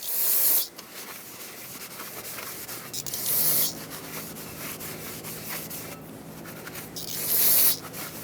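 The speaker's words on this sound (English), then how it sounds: "Use brake parts cleaner and a clean rag." Brake parts cleaner sprayed and a rag rubbed over the braking surface during a front brake job on a 1995-2004 Toyota Tacoma 2WD: three short hissing spray bursts set against steady, scratchy rubbing and wiping strokes, with no talking.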